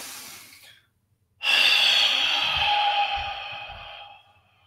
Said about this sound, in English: short breath in and then a long breath out to release